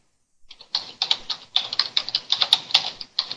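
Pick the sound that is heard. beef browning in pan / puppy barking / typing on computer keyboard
typing on computer keyboard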